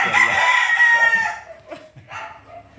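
A rooster crows loudly and close in a backyard, followed by a few softer clucks from chickens.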